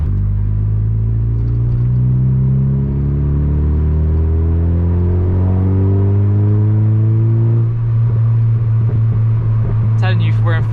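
Mazda MX-5 MK2 engine revving in third gear, heard from inside the car as a loud, steady rising drone with road rumble. A brief voice cuts in near the end.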